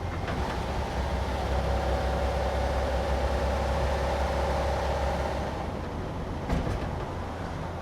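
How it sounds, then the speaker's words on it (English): A lightweight Porsche 911 hotrod on new shocks cruises along a road. There is a steady broadband roar of engine and tyres throughout, with a few bumps near the end as it passes over a dip. "I'm driving on some of the exact same roads."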